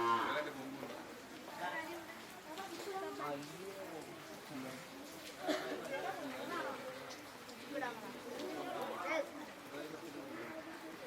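Cows at a farm with several breeds, including HF and Jersey, give low moos scattered among steady chatter from a group of people talking nearby.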